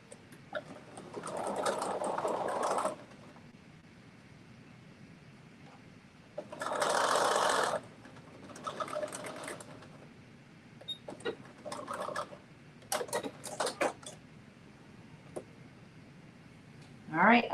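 Sewing machine stitching fabric in several bursts, a couple of longer runs and shorter stop-start passes, heard between stretches of quiet talking.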